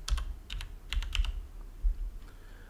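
Computer keyboard typing a short command, several quick separate key clicks in small clusters with gaps, close and crisp in a quiet room.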